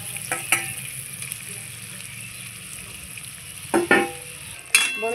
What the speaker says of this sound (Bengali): এবার দিয়ে দিচ্ছি ভেজে রাখা মাছ।